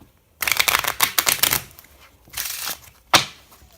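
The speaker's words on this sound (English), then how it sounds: "Shuffle it one more time." A deck of playing cards is shuffled up close, with bursts of riffling flutter followed by a softer second shuffle and a sharp snap as the cards settle.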